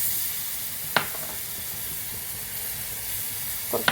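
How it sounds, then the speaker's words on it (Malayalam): Vinegar splashes into a hot pan of bilimbi pickle with a steady sizzle and hiss, and a couple of sharp pops spit out of the frying. "ഇനി നമുക്ക് നമ്മുടെ വിനാഗിരി ഒഴിച്ച് കൊടുക്കാം"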